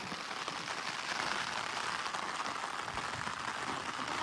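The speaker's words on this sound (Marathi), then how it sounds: "आता बघू शकता पाणीमध्ये कसा पाऊस येत आहे" Rain pours onto open water, a dense, even hiss of drops holding steady throughout with no voices.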